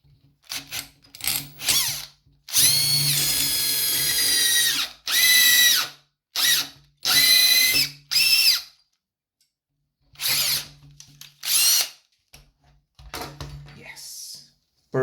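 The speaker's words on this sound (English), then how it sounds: "I'm gonna have my pliers, hold it like that, and I'm gonna drill a hole" A power drill bores into an RCA plug gripped in pliers and wrapped in a towel, running in several loud bursts of a few seconds each with pauses between, some starts rising in pitch, with a voice heard faintly.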